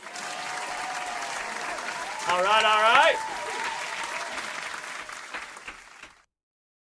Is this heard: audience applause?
yes